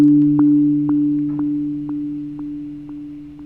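Sonic Pi synth notes and a sample play through an echo effect with a 0.5 phase and decay of 8. Two sustained tones are struck by a repeating pulse every half second, with echoes fading slowly and no talking.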